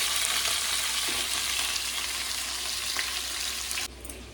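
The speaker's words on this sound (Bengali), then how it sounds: "তো মাছটা ভাজা হতে থাক" Fish fries in hot oil in a pan with a loud, dense, steady sizzle close by. The sizzle drops away abruptly near the end.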